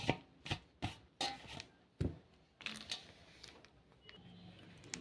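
Mashed taro bhorta being worked together in a bowl, giving a series of soft, close, irregular taps and squelchy scrapes that slowly fade toward a quieter end.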